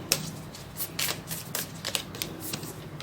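Tarot cards are shuffled close up in quick riffling bursts, papery flutters and soft snaps repeating irregularly with no talk.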